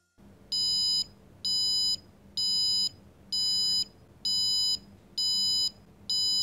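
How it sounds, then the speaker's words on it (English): A Grove Beginner Kit electronic buzzer alarm beeps in a steady repeating pattern, about seven high-pitched tones at roughly one-second intervals, loud and clear over faint background hum. "the buzzer will alarm and the red LED will light up"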